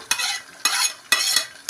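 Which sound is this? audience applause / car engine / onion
onion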